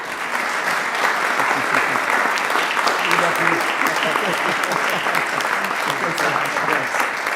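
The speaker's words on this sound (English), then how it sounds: "Let's give you guys a big round of applause for all they do." Steady, dense audience applause fills a city council meeting chamber, honoring fire and emergency services staff; the clapping is loud and continuous throughout with a faint voice underneath.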